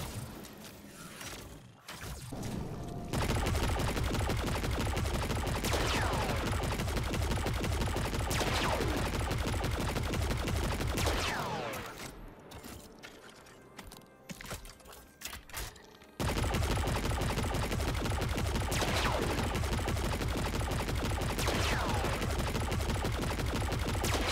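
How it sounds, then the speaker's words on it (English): Deterministic Chaos light machine gun from Destiny 2 firing in long sustained automatic bursts, loud and close, with a short lull before the heavy chatter resumes. "Deterministic Chaos has to be one of the best looking and best sounding LMGs."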